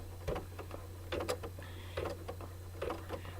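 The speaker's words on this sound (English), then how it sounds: "I'm going to lower the camera here so you can watch everything stitch out." An embroidery machine stitches an appliqué coaster design in a hoop, giving a steady, close mechanical ticking and rapid needle clatter in short repeating bursts over a constant motor hum.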